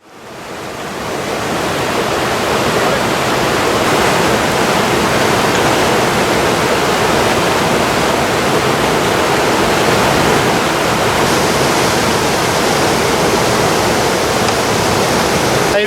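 A river flows beside a walking track in New Zealand's South Island alpine country, a loud, steady broadband rush of water that stays constant throughout with no voices.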